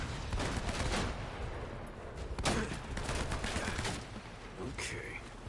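Rapid gunfire in a video game, dense bursts of many shots in a loud crackling fusillade that carries through the whole stretch, with brief sharper cracks standing out.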